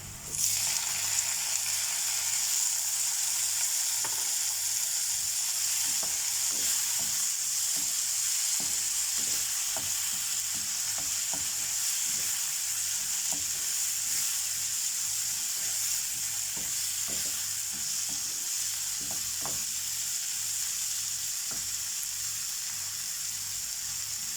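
Tomatoes hit frying onions in a pan, producing a strong, steady close-up sizzle with intermittent stirring clicks and scrapes throughout, no voices.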